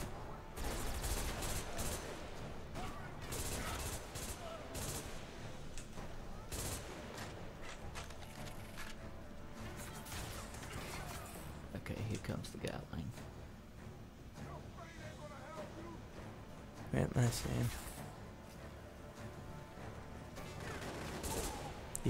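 Gatling gun fire in the Xbox 360 shooter Army of Two: The 40th Day, sustained rattling bursts mixed with clanking mechanisms and crashing impacts, dense and loud throughout, with game dialogue and voices mixed in.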